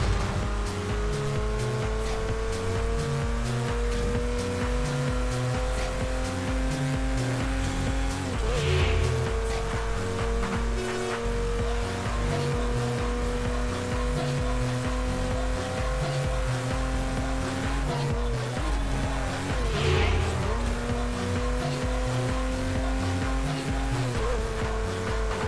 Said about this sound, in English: Let's use the nitrous to get back up to speed.